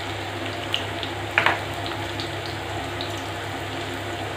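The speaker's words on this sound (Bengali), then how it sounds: "প্রথমে আমি আলুটা ভেজে নিচ্ছি।" Potatoes frying in a pan of oil for a mutton curry, giving a steady, fairly loud broadband sizzle with a few small pops and spits and no talking.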